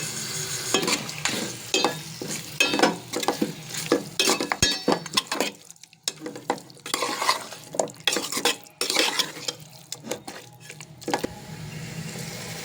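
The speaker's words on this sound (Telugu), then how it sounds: "ఈ విధంగా చికెన్ మొత్తం వేసి కలుపుకుందామండి" Chicken pieces are stirred into curry in a pan with rhythmic scraping strokes of a metal spoon, occasional clinks and a soft sizzle underneath, close and alone without talk.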